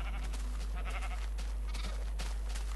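Sheep bleat in Minecraft, a short bleat standing out against a steady low hum and faint background game sounds.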